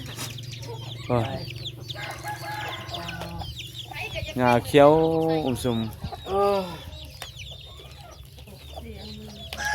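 Farmyard chickens cluck and call in bursts at a rural Thai home, fairly close and loud at times, while a person talks over them and a steady low hum runs underneath.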